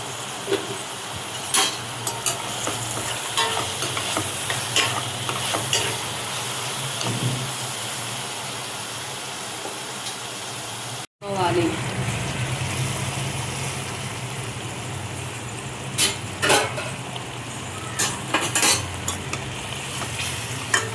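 Paneer curry gravy, just seasoned with garam masala, is stirred in a hot pan. A loud, steady sizzle runs under repeated scraping strokes, and a brief break comes midway before the stirring resumes.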